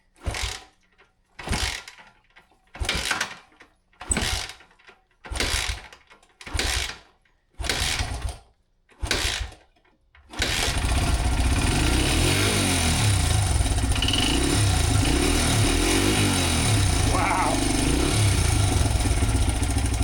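An old Honda dirt bike with a freshly filled carburetor, no choke: about eight rhythmic kick or crank attempts, then the engine catches and runs at a steady, loud, close idle.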